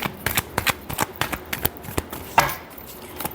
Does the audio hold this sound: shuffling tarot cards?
yes